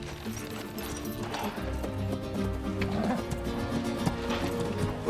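Horses moving at speed, with rhythmic hoof clip-clop over a rumbling, busy background, fairly close and continuous, and a possible whinny amid the commotion.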